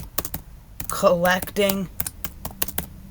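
Rapid clicks of typing on a computer keyboard, irregular bursts of keystrokes close by, with someone speaking briefly in the middle.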